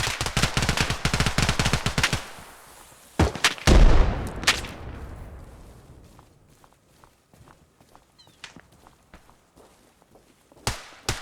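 Bursts of rapid M110 rifle fire in the video game Arma Reforger crack loudly, then scattered single shots and distant reports trail off, with a few sharp shots returning near the end.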